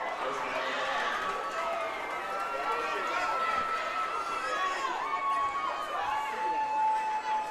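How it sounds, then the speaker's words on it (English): A crowd cheers at a high school state championship football game after a defensive stop, a broad roar of many voices rising and falling, heard from nearby with a commentator speaking over it. "I believe the crowd right around us approves of the stop as well"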